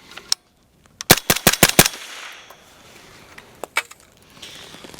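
Suppressed shots from a 20-inch AR rifle in 5.56: a single shot, then a rapid string of five close, sharp cracks, followed by two more isolated shots, each with a short outdoor echo.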